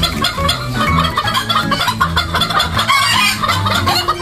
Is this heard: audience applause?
no